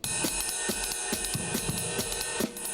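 Drums play irregular, syncopated bebop patterns with bass and snare accents falling off the beat, busy and unpredictable, over a sustained background tone.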